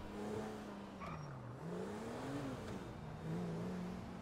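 A car in the video game Grand Theft Auto V drives and pulls in to park, its faint engine hum rising and falling in pitch as it slows.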